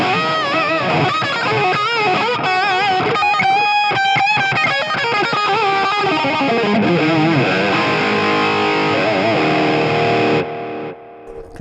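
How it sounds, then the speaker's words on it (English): Two guitar distortion pedals stacked for a gritty 1980s Rat-style tone, played as loud, dense overdriven electric guitar chords and riffs that run steadily for about ten seconds before cutting off abruptly. "if I really want to get crazy, I'll hit these 2 together to get like an 80s, like rat kind of distortion sound"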